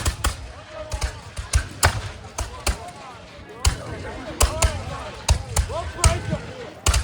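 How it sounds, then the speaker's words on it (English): Muskets crack in scattered volleys at a reenactment of the final assault of the Battle of Bunker Hill, with repeated sharp reports at irregular intervals, some close and loud, over faint crowd voices. "how the British are firing volley after volley"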